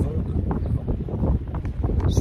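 Strong wind gusts buffet the microphone on a beach beside sand dunes, a constant rough low roar under French speech from nearby people.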